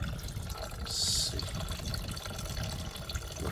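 Water sloshes smoothly up and down inside a Silver Crest disinfecting appliance, a steady, close, moderate wash of liquid with a brief brighter splash near the start and a faint word spoken over it.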